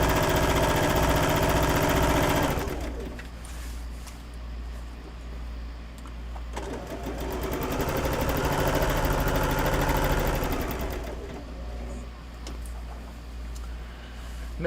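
An electric sewing machine runs steadily, stitching quilt pieces together for a farmhouse-style quilt, with a motor hum that swells and eases across two long sewing passes and no talking.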